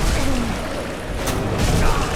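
Gravelord Nito in Dark Souls summoning his sword up through the ground in the Tomb of Giants, a loud sustained rumbling roar with a swelling, booming texture and a brief sharp burst near the middle.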